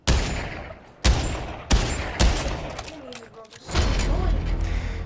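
Desert Eagle .50 AE pistol fired in the Pavlov shooter game: five loud, sharp shots spaced about a second apart, each with a booming tail, followed by mechanical handling clicks.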